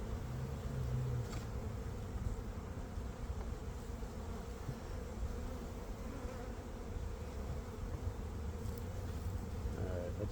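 Honeybees buzz continuously around an opened hive during a spring inspection, a dense, steady hum close by with a faint low rumble of wind beneath and no speech.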